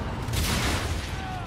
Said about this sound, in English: that was an explosion that I was not gonna get away from